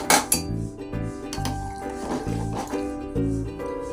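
A cooking pot and metal utensils clink and clatter as rice is put on to boil, with repeated close knocks and scrapes over a steady low kitchen hum, with no talking.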